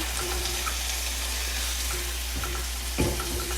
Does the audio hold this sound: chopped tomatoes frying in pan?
yes